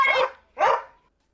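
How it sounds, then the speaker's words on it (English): A dog barks twice in quick succession, loud and close, with a short gap between the barks and silence after. "The dog joined in!"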